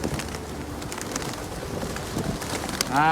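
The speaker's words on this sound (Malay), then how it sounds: "supaya burung-burung ni berterbangan dekat kita" Pigeons gather around scattered feed, a dense rustle of wings and cooing over steady outdoor background noise, with a faint call rising at the end.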